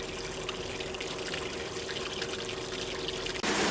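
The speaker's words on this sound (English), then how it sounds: "They allow the water to run into one of the existing drying beds." Water from a dewatering unit runs steadily into a drying bed lined with pea gravel, a continuous close rushing flow with a brief change near the end and no voices.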